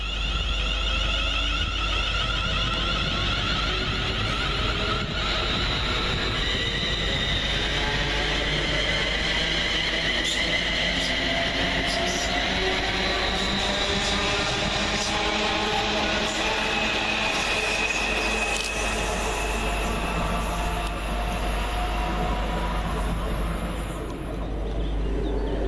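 Class 350 electric multiple units 350 373 and 350 107 depart Watford Junction station on a London Northwestern Railway service, a steady low rumble with rising whine and rail noise sustained throughout.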